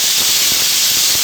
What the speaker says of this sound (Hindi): तो इसको 4 सीटी में लगा दूंगी ताकि सॉफ्ट हो जाए।